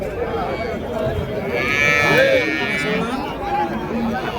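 Cattle mooing at a large cow market in Krishnagiri district, one long, loud nearby moo rising over a busy crowd of chattering voices and talk.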